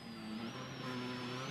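Jari-Matti Latvala's rally car runs a Monte-Carlo special stage, its engine holding a steady, sustained drone that is loud and unbroken through the short moment.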